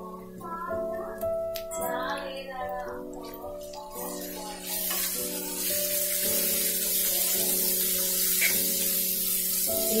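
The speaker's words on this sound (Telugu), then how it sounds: "ఇవి లైట్ బ్రౌన్ కలర్లోకి ఫ్రై అయ్యేంత వరకు వెయిట్ చేయాలి" Ginger paste, turmeric and curry leaves sizzle in a pan for Telugu-style handi chicken, a steady frying hiss that swells louder partway through, under tonal background music.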